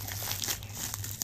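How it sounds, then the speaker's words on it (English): A squishy package of plastic wrapping is torn open by hand, giving close, continuous crinkling and crackling that stays steady for about a second. "Maybe I can tear it."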